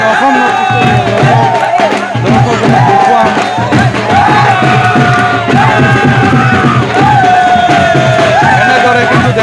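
A large crowd celebrates a Durga Puja prize win, dancing with loud, continuous cheering, shouting and music that keep on steadily throughout.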